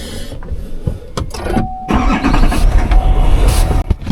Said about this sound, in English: The truck just started and ran.